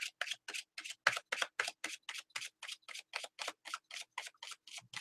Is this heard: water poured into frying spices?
no